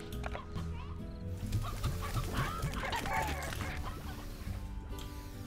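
Chickens clucking in the farming game Slime Rancher, a steady flock chatter of clucks and short squawks over background game music, with someone talking over them.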